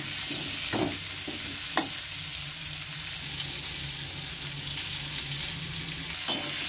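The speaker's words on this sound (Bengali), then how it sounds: "আলুটা হালকা করে একটু ভেজে নেব" Potato pieces sizzle steadily in hot oil in a village kitchen pan, a constant close hiss broken by a few sharp clinks of a spoon stirring.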